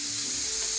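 Shrimp sizzle and fry on a hot grill pan in a steady, close crackling hiss with no talk over it.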